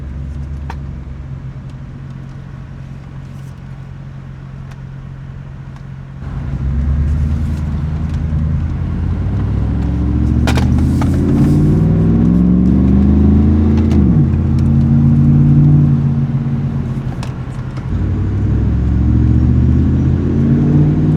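A GMC Yukon's engine runs steadily while driving on the road, a low continuous drone that swells as it accelerates partway through and stays loud, with faint rattles and cabin noise over it and no talking.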